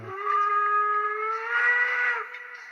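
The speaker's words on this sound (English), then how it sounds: "double whistle." A model train's single sustained two-tone double whistle, loud and close, holding steady for about two seconds before cutting off.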